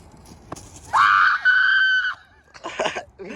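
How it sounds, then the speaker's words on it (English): A person lets out a loud, close, strained scream lasting about a second, followed by a shorter ragged cry and some muffled vocal noise. "Keep screaming! Keep screaming!"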